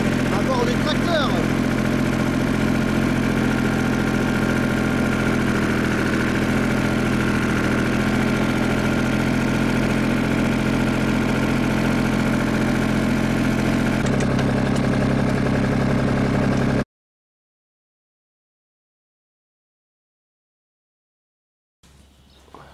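A tractor engine idles steadily during a nectarine harvest in an orchard, a loud, even, low rumble that holds for about seventeen seconds, then cuts to silence before a brief faint return.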